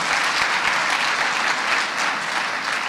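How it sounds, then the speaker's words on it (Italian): A conference audience at JoomlaDay 2014 in Milan gives a dense, even round of applause that holds steady for the full length with no talk over it. "Un applauso."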